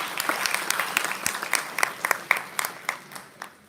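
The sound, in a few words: audience applause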